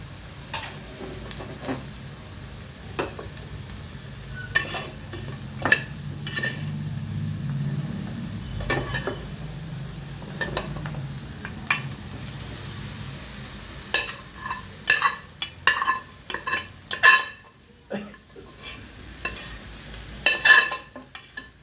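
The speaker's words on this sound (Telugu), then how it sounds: "బాగా వేగాల. తర్వాత మటన్ వేయాలి." Mutton cooking in a pan for a mutton curry, a low sizzle under repeated sharp scraping and clanking of a spoon stirring, growing busier and more uneven toward the end, with no voices.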